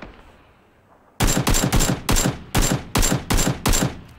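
Gunfire in the battle-royale game PUBG: seven sharp, loud shots in quick uneven succession after a quiet start, each with a short ringing tail, with no talking.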